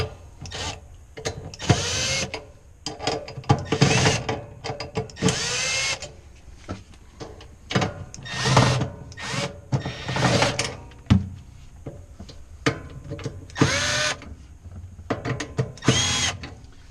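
Power drill with a Phillips bit backing off screws during evaporator sensor replacement on a Fhiaba Fresco refrigerator; repeated short whirring bursts of the motor, each a second or two long, close by and fairly loud with clicks and rubbing between.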